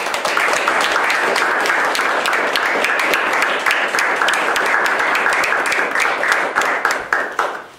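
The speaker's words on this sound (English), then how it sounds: "So I'd like to just give them just a round of applause for all of their effort." A town board meeting audience gives a sustained round of applause, dense, steady clapping from many hands that holds at full strength throughout and fades off at the very end.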